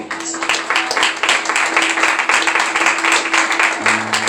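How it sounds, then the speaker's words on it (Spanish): A church congregation applauds during a sermon, a dense and loud burst of clapping from many hands, with a steady sustained tone beneath it and a low hum shifting near the end. "Denle un aplauso al Señor."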